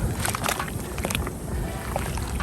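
A sponge churns through soapy water in a car-wash bucket with a grit guard, giving close, continuous sloshing and splashing with a few brighter splashy bursts.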